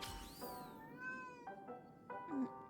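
A cat in the game Honkai Star Rail gives several short, clear meows in sequence, close and fairly quiet, each rising and falling in pitch.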